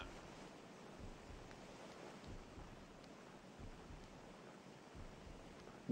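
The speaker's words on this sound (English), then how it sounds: "that's just water, maybe" Steady, faint wash of water noise in the PS2 horror video game The Suffering, a continuous low rushing hiss with soft swells and no voices.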